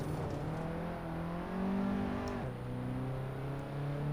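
Alfa Romeo QV road car in a racing game, engine note climbing under throttle as it pulls out of a corner, a steady droning whine that rises, dips at a gear change and rises again, loud and close with no talk.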